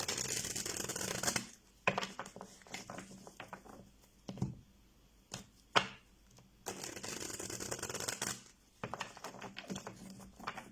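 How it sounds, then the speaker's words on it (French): Tarot cards shuffled by hand in bursts of quick papery riffling and slapping, several spells of shuffling broken by short pauses and single card snaps, close and moderately loud with no talk. "on va juste prendre une petite carte avec le tarot pour voir les énergies de la semaine"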